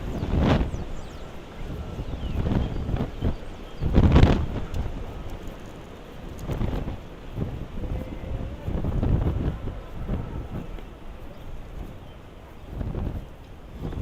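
Gusty wind buffets an outdoor microphone near Castle Clinton in lower Manhattan, New York City, with loud rumbling bursts that rise and fall throughout, no one speaking.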